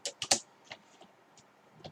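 Typing on a computer keyboard during a terminal session: a few quick, close clicks in a cluster, then scattered single keystrokes, with a final pair of taps. Quiet, with no talk.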